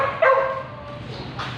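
Hungry dogs at feeding time bark and yip in short excited bursts, fairly close, with a person's voice mixed in.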